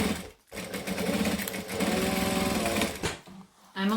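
A sewing machine stitches a Bagstock Trailblazer bag in quick, loud mechanical bursts close by, with brief stops near the start and end where the stitching pauses.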